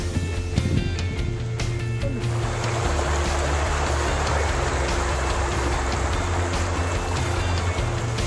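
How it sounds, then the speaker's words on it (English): A waterfall where local people shower, giving a constant loud broadband roar of rushing, splashing water, with some faint clattering early on and no speech. "Now we are at the waterfall"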